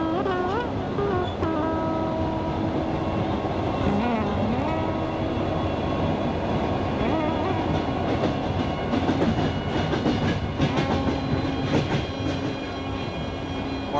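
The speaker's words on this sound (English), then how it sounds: "We're on a train going to Bukhara" Train running toward Bukhara, a steady rumble of rolling wagons with rhythmic clickety-clack and squealing tones, heard from aboard, continuous and fairly loud throughout.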